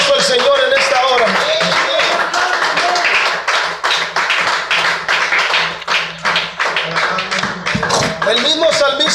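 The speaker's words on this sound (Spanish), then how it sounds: "Denle un fuerte aplauso al Señor en esta hora" A Pentecostal congregation applauds during a church sermon, with loud, fairly rhythmic clapping that fades into separate, distinct claps, while a voice speaks over it.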